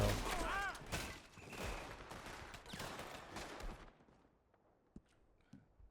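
Rapid bursts of gunfire ring out in Red Dead Redemption 2 on a foggy day, a dense volley for about four seconds that then thins to a few isolated, sharper shots against near silence.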